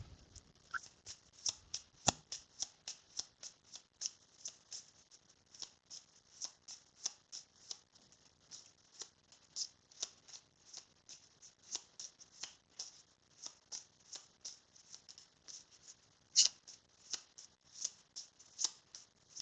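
A tarot card deck shuffled by hand, rapid repeated riffling bursts in a steady rhythm, close and fairly quiet, with no talking.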